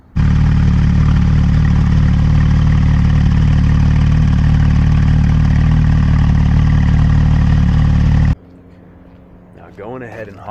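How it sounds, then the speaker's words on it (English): A Porsche GT3 RS with a straight-piped Sharkworks exhaust runs in a loud, close, steady drone for about eight seconds, then cuts off abruptly, leaving faint background noise. "it's straight piped and has an exhaust system from Sharkworks, so as you'll hear in a little bit here"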